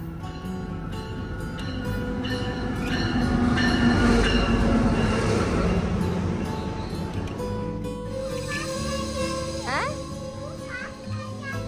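A double-decker train rumbles past along a rail line at a Canadian Santa Claus parade, swelling loud in the middle then fading, with a voice and other people speaking around it.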